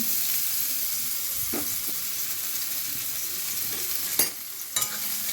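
Garlic and ginger fry in hot oil for paneer patties, a loud continuous sizzle with occasional stirring scrapes and a few sharp knocks near the end; no one speaks.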